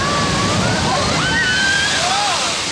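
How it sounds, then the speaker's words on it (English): Water rushes and sloshes steadily on the Grizzly River Run rapids raft ride at Disney's California Adventure, a continuous loud roar with a narrator talking over it. "Grizzly River Run is a ride down the rapids in country from the state's gold rush days."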